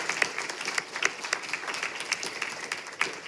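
Applause from an audience at a school board meeting, a dense patter of claps that stays steady and moderately loud for a few seconds with no voices over it.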